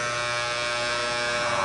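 Electric shaver buzzing in a horror film scene, a steady, close mechanical hum with a bright whine that holds unbroken through the short stretch.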